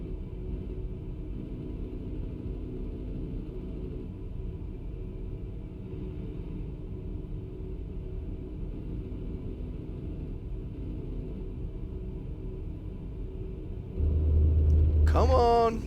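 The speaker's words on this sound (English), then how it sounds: "we are riding this retarder right now" Steady low rumble of a heavy truck's engine retarder braking in American Truck Simulator, a continuous droning grind that holds evenly and swells louder near the end.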